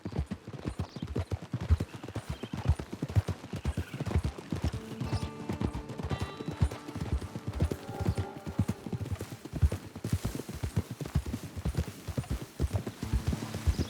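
Horse hooves clip-clop steadily on the ground as a horse walks toward a camp in a western film, an even rhythm of many close hoofbeats with faint background sounds and no speech.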